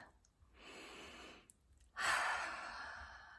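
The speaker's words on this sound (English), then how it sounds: "so let's just take a deep breath." A deep breath during a guided heart-opening meditation: a soft airy inhale followed by a longer, louder sighing exhale, close and alone.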